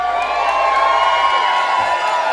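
A live-show audience screams and cheers in a loud, sustained wash of high-pitched shrieks and whoops that stays dense throughout, with no clear speech on top.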